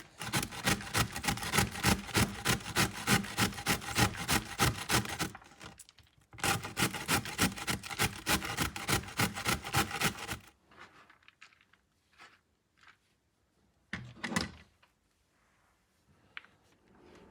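Cauliflower scrapes rhythmically against the coarse side of a box grater, a fast run of rasping strokes that pauses briefly and resumes, then gives way to a few scattered knocks and rustles.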